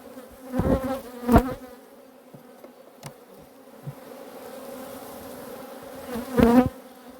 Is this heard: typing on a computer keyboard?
no